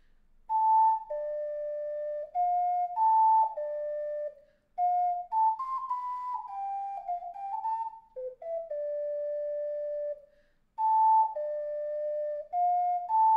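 An ocarina plays the Temple of Time melody from a tutorial piece, clear breathy notes in slow held phrases with short gaps between them, close and alone with no talking.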